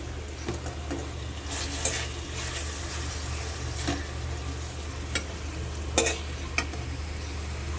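Onion and green chilli paste sizzles steadily in hot oil for a fish curry, a continuous close frying hiss broken by a few faint scraping clicks of stirring.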